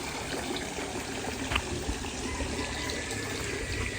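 Water runs steadily into a pool fed by a stream at an Isla San Andres resort, a continuous broadband rush with no voices, at an even, moderate level throughout.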